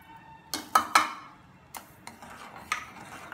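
A spoon clinks against a pot of thickening milk and sugar on medium heat, three quick taps close together, then a few softer scrapes and knocks spaced out over the quiet simmer.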